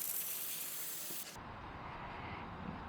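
Brake or carb cleaner sprays from an aerosol can onto the head of an Onan small engine during decarboning, a loud steady hiss for over a second that cuts off abruptly, followed by a quieter hissing tail.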